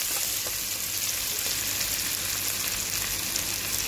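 Ginger and garlic frying and being stirred in hot oil, a steady dense sizzle that stays loud and even throughout, close up and uninterrupted.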